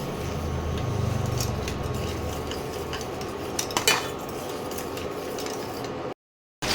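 Masala with coconut and melon seeds being stirred in a pan, metal spatula scraping and clinking against the pan with a few sharper knocks over a low background hum, then a short silence near the end.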